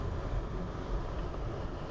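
Steady low rumble of snow tires rolling on the road inside a moving car while driving home, a constant dull roar with no talking over it.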